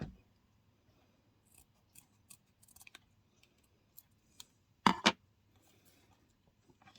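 Scissors or a cutting tool trimming a plastic part during a Tamiya G6-01 RC car rear-wheel-drive conversion, faint small snips and clicks, then two sharp louder cuts near the middle, close and quiet otherwise.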